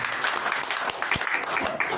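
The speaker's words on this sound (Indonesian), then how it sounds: "Boleh kasih tepuk tangan saudara begitu" A church congregation claps together during a service, dense irregular applause sounding near and fairly loud for a couple of seconds with a voice faintly underneath.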